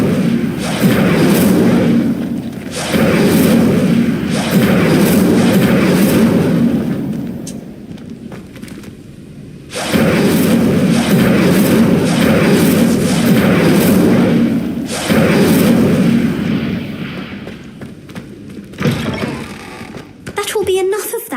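A fire spell is cast in the Hogwarts Legacy video game. It comes as repeated loud, rumbling bursts of whooshing flame, several seconds each, with short gaps between them.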